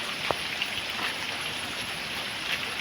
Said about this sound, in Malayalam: ഇവിടെ നല്ല മഴ ഇരിക്കുന്നു ഇപ്പോൾ ചെറിയൊരു തോർച്ചുണ്ട്